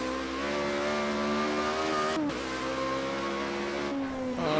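A Formula Renault racing car in a driving game on a snowy track, its engine whining steadily as it picks up speed, with two brief dips at gear shifts or lifts, loud and close.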